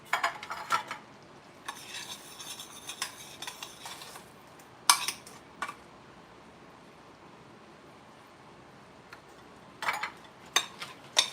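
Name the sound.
cupcake batter being spooned into cupcake pans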